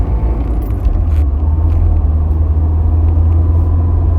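A project car that just had its coolant repaired runs at idle, a steady, heavy low rumble close by with no revving or pauses.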